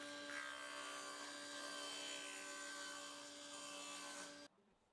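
A steady, continuous saw cutting wooden shelves and dividers for several seconds, with a droning motor tone, stopping abruptly near the end.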